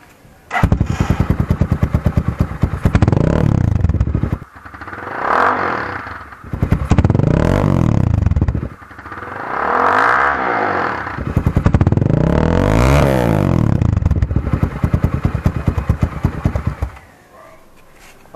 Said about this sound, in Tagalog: install na natin yung muffler natin na walang silencer ngayon